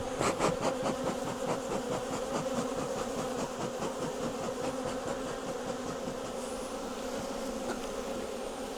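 Honey bees in a busy hive of about a million hum in a dense, continuous buzz with pulsing individual wingbeats close to the microphone, steady and unaccompanied by talk.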